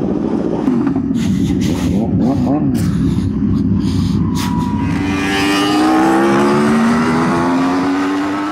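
A liter-class sport motorcycle engine revs hard at a supercar meet, loud and close, with sweeping pitch climbing and falling through several throttle blips; people talk over the noise.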